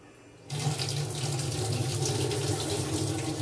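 Tap water gushing into a bowl of flattened rice (chira) being washed, a steady close rushing splash that starts abruptly and runs on evenly; no talking.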